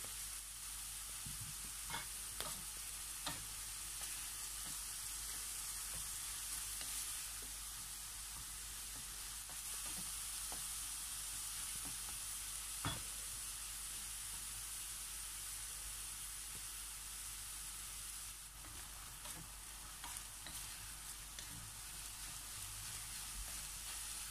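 Seasoned lasagna sauce stirred in a pan gives a soft, steady sizzle with occasional sharp spoon scrapes and clicks throughout, and no talk.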